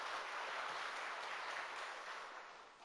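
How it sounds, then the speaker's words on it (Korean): A church congregation applauds to welcome a pastor, a dense, steady wash of clapping heard from within the crowd, easing slightly toward the end, with no voices. "큰 박수로 환영하도록 하겠습니다"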